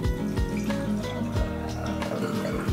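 Orange blossom water, with petals steeped overnight, trickles and drips while being strained, giving close, uneven splashes and gurgles over a few seconds.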